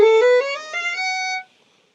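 A quick run of single notes rises stepwise as a melodic minor scale is played in root position, clear and close with no talking, then fades out.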